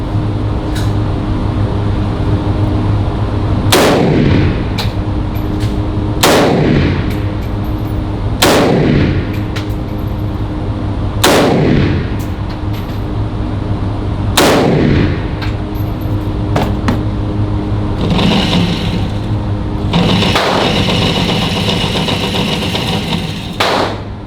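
Loud gunshots ring out at an outdoor gun range, about seven sharp blasts spaced a few seconds apart over a constant low engine-like hum, each shot trailing off in a long echo.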